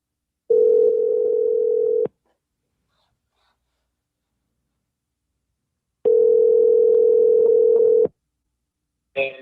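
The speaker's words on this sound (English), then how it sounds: "Let's try this number. I think I dialed this number before." A telephone line rings after a number is dialed, giving two long steady electronic tones about two seconds each, separated by a silent gap, clear and alone.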